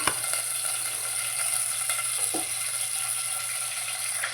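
Hot oil in a heated kadai sizzles steadily as tempering spices and dals are added one by one, a continuous close frying hiss with a faint clink of utensils.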